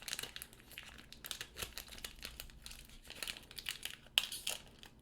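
A foil booster pack from the One Piece trading card game is torn open up close, giving a busy run of crinkling and ripping with a sharper tear near the end and no voices.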